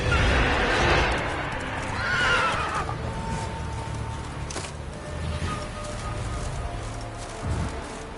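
Roach, the horse in The Witcher video game, whinnies several times over rumbling galloping hoofbeats, fairly close and moderately loud, with a brief vocal sound in between.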